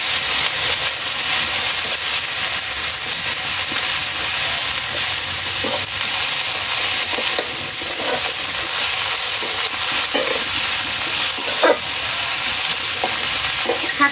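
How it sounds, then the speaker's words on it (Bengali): Garden data greens stirred in a pan as they fry, a dense continuous sizzle with scraping stir strokes and occasional sharper clatters, close and steady with no talk. "শাকটা একটু নাড়িয়ে ছাড়িয়ে কমে গেলেই তারপরে দিব লবণ হলুদ।"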